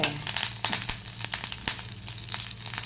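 Green chilies, ginger, urad dal and chana dal frying in hot oil make a crackling sizzle, with quick scraping stirs and small pops close by over a few seconds.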